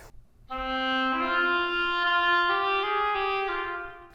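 An oboe slurs from low C up to F, with a brief unwanted E slipping in between; the sustained reedy tone is played alone, close and fairly loud, holding for about three and a half seconds.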